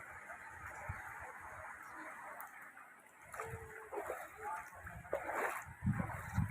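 Heavy rain floods a shop area, a steady broadband wash of falling and splashing water that carries through the whole stretch, with voices and nearby movement rising over it toward the end.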